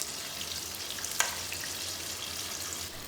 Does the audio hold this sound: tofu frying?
yes